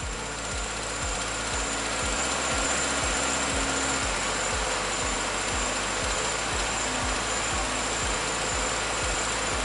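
A car engine idles during a fuel delivery check, a loud steady rhythmic chugging with regular pulses and a constant high whine running throughout.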